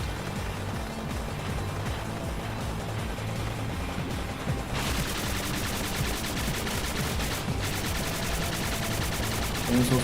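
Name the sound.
gunfire in Spark the Electric Jester 3 video game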